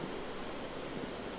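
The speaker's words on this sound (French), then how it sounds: "Je vais l'allumer, ça fera du bruit blanc." A spirit box device gives off a steady, even white-noise hiss, broadband and unchanging, fairly quiet and continuous, with no speech.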